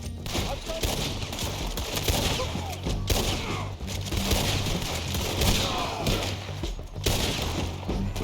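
Dense, chaotic gunfire from a Red Dead Redemption 2 shootout, loud overlapping shots and crashes in rapid bursts throughout, with shouting voices mixed in.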